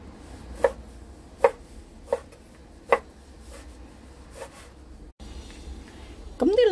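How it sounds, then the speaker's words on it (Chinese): A knife slices Chinese sausage on a board: about six sharp cuts at an even, unhurried pace, close and fairly quiet, followed by a louder scrape at the end. "臘腸你可以打橫切一片片又得，或者劏開佢切成一粒粒都得。"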